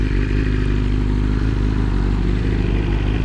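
A BMW S1000RR motorcycle engine runs at a steady idle, a loud, continuous low rumble that stays even throughout with no voices over it.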